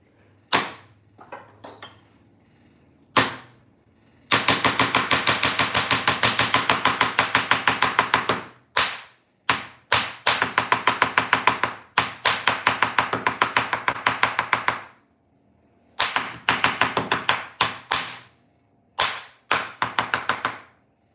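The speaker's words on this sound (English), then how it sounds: "let's chop up a whole mess of dill, because I love dill, in my quiche" A knife chops a bunch of fresh dill on a cutting board, with quick, steady runs of crisp, close taps broken by short pauses and a few isolated single strikes.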